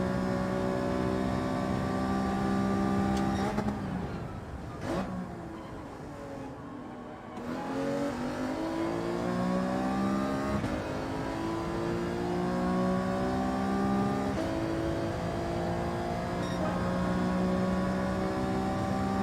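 Race car engine in Gran Turismo 7 during a lap, loud and continuous, revving up through the gears with a brief drop in pitch around a corner before climbing again to a sustained high whine.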